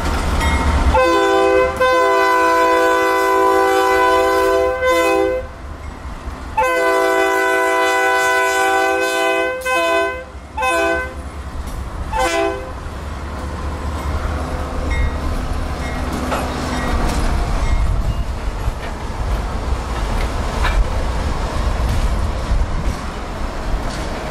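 A freight train on the Florida main line passes close and loud, with a strong tonal sounding that starts and stops several times, which may be the air-driven bell, over a continuous low rumble of rolling railcars.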